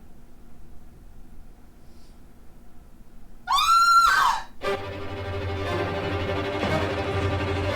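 A sudden high, wavering scream rings out for about a second, loud and shrill, then gives way to a steady rumbling hum.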